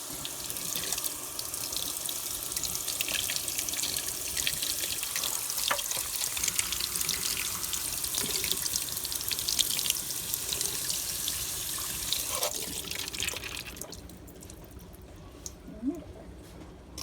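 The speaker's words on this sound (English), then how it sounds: "So let's get them rinsed. These are black beans." Black beans are rinsed under a running kitchen tap, a steady, fairly loud stream of water pouring and splattering for most of the stretch before cutting off near the end, leaving only faint clinks.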